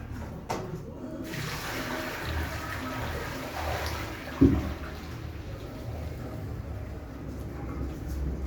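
A small amount of water poured out for washing at a building site where material is being mixed to fill a foundation pile; a continuous rushing pour at moderate level, with a brief louder splash partway through.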